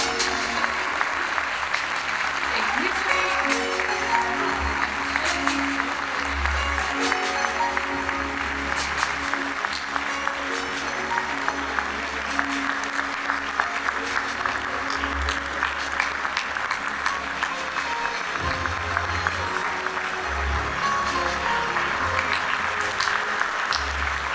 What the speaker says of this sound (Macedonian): Нека трае аплаузот за сите нас.